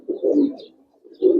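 Giribaz and coloring pigeons at a farm give two soft, close, throaty coos separated by a short pause.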